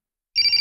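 A mobile phone ringtone starts abruptly after a short silence, a bright repeating electronic trill pulsing in quick beats, loud and close.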